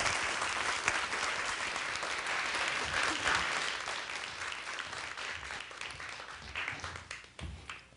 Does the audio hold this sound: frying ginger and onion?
no